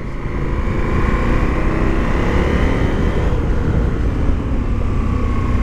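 KTM 1290 Super Adventure S motorcycle being ridden on the road, a loud continuous engine and wind roar with a steady hum that eases slightly partway through, close and unbroken, with no talk.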